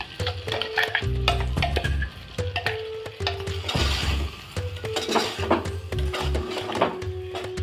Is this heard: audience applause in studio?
no